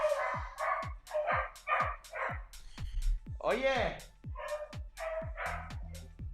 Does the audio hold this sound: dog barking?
yes